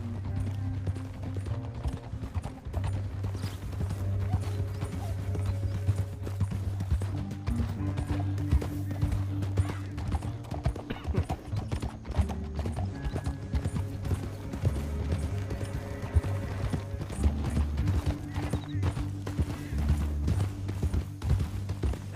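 Horse hooves clip-clop in a steady, continuous rhythm in the video game Red Dead Redemption 2, heard close and clear over a low droning game soundtrack, with no one talking.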